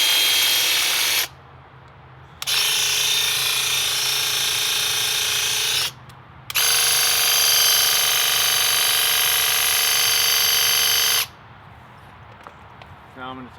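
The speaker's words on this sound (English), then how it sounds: "So we're flushing the inside of the pump." Graco Ultra/Ultimate paint sprayer pump flushing water through its system in prime mode, a loud, steady motor whine running in two long bursts separated by short pauses, close up and without talk.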